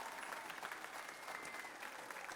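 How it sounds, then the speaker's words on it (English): Audience applause fills a school spring band and orchestra concert, a dense, steady wash of clapping from a large crowd lasting a couple of seconds. "Give a round of applause for Jesse Maley."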